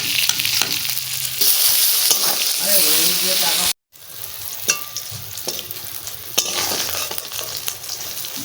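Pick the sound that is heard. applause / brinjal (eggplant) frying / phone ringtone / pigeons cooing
brinjal (eggplant) frying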